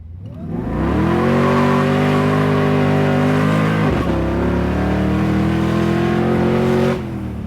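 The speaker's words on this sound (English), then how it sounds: "As you can see, this car gets down. It's very, very fast. It was blowing the tires off." Supercharged LS2 V8 in a 1967 Chevrolet Camaro restomod accelerating hard, a loud close engine roar climbing in pitch through one gear, a brief dip at a shift, then rising again before easing off.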